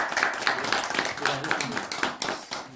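An audience applauds at a graduate thesis presentation at the Vinaya graduate school of Ssanggyesa Buddhist monastery, with fairly faint, rapid, continuous clapping from a small group.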